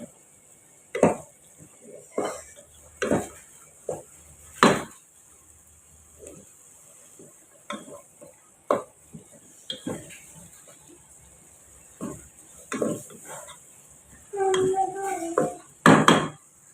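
Green chickpea masala being stir-fried in a pan, with a series of scattered scraping and clinking spoon strokes against the pan, separated by quiet gaps, ending in a sizzling burst.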